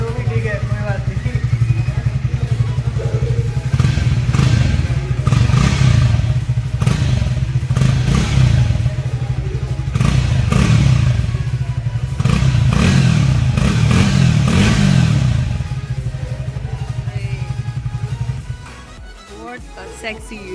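Triumph Speed T4 motorcycle, a 2025 model, revved hard up to about 8,000 RPM, its exhaust note loud and close, rising and falling through repeated throttle blips for about eighteen seconds before settling back to a lower idle.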